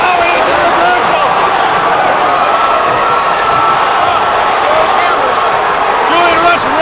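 Crowd at a hardcore cage fighting event cheering and roaring steadily throughout, loud and dense, with a commentator talking over it.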